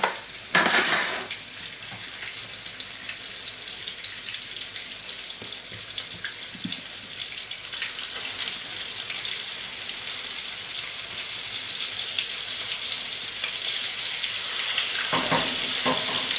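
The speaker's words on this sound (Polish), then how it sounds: "Smażymy z jednej i z drugiej strony na złoto-brązowy kolor." Minced meat cutlets with bacon and cheese sizzle and spit steadily in a hot pan, a dense crackling hiss that continues throughout with occasional louder pops.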